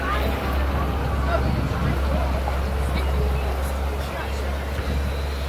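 Blue Heron tour boat cruising on Canobie Lake, a steady low engine rumble with water wash beneath a murmur of passenger chatter and talk.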